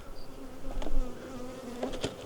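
Honey bees buzz around a farmyard hive that is being worked, a steady low drone with a few brief nearer fly-bys rising over it.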